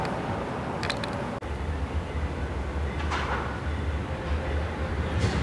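Norfolk Southern freight train 36Q passing northbound in the afternoon, a steady low rumble of rolling cars with a few clanks and a sharp knock, heard from trackside at moderate distance.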